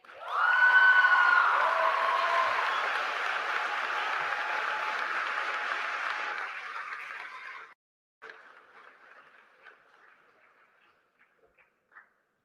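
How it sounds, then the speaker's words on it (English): An audience at a graduation ceremony breaks into loud sustained applause with some cheering, which fades after several seconds into a few scattered claps. "Let us give her another round of applause"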